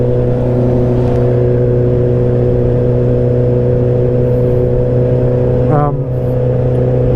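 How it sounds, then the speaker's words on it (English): A motorcycle with an aftermarket exhaust drones steadily at close range inside a tunnel, its low engine tones holding for several seconds before a short rising rev bomb near the end. "Gotta give it a little rev bomb through a tunnel."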